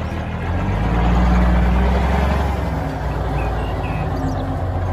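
Toy tow truck giving off a steady, low rumbling engine drone with a faint high whine above, moderately loud and continuous, swelling slightly in the middle.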